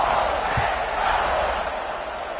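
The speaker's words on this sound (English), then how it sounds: "this crowd is feeling themselves after that last drive" Stadium crowd in a Madden football video game, a steady broad roar of cheering sustained at an even level throughout, with one brief low thump early on.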